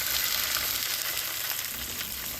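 A salmon fillet seared skin side down in hot olive oil in a very hot pan, making a loud, continuous close-up sizzle with no talking.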